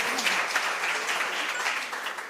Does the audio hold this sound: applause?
yes